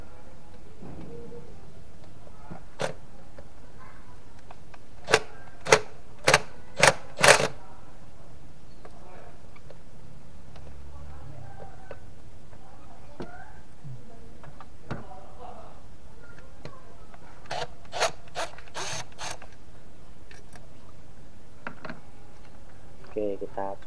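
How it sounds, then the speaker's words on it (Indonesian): A ratchet wrench loosening bolts on the throttle body of a 2014 Chevrolet Aveo Sonic gives sharp rapid clicks in two bursts, near and clear, with someone talking quietly between them. "nah ini saya pakai ratchet, tingkat ratchet ini"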